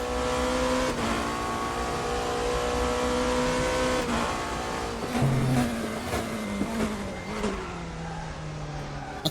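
An onboard race car engine in the RaceRoom racing game screams at high revs, climbs through the gears with sharp shift cuts, then drops in pitch under braking. The sound is loud and close, with no talking.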